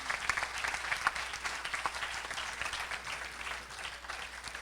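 An audience at an Urdu poetry event in Houston, Texas applauds to welcome the poet Lata Haya, with brisk, moderately loud clapping that continues throughout and a few sharper claps standing out near the start.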